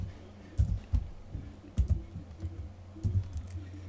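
Quick bursts of keystrokes on a computer keyboard, soft irregular clicks typing a short phrase in capitals, close and fairly quiet with brief pauses between taps.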